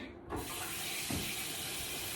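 A kitchen tap runs steadily, pouring water into a pot to cool freshly boiled eggs, a close, even rushing splash that starts abruptly and continues without a break.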